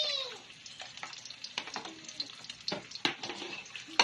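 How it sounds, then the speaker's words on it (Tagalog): Chopped garlic sizzles in hot oil in a pan, a steady crackling fry broken by sharp scraping taps of a spatula stirring, close and fairly quiet with no talking. "At maglalagay na po tayo ng panggisa na bawang."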